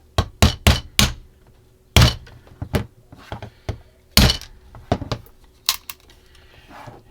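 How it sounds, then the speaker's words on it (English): Irregular taps of a rubber mallet, sharp thuds in quick bursts of two or three with pauses between, close and fairly loud. "that's just a little rubber mallet type hammer I picked up off of Amazon"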